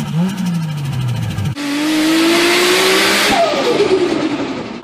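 A car engine revs hard, with rapid fluttering chatter from turbo compressor surge as the throttle lifts, caused by an undersized blow-off valve, then the engine note climbs and falls again, loud and close.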